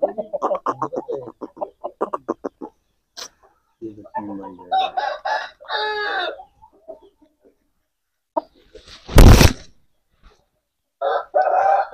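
An Aseel fighting rooster clucks and calls in bursts, close and loud, with a raucous crowing cry near the end, while voices speak at times among the gaps of quiet.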